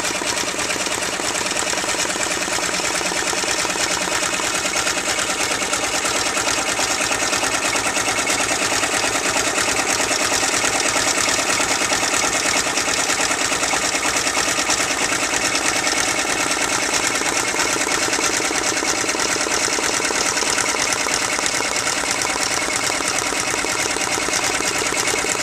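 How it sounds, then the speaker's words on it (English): An embroidery machine stitches a border around a gift tag with a loud, steady, rapid needle rhythm that runs unbroken from start to finish, with no talking. "I'm going to start the machine and let it finish that border off."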